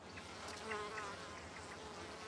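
Bees buzz softly and steadily around blooming apple blossoms, a faint continuous hum with slight swells as insects pass nearby.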